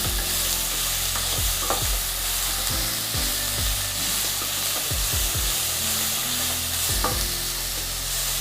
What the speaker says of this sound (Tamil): வெங்காயம் வதங்கிறதுக்காக கொஞ்சம் உப்பு போடுறேன்.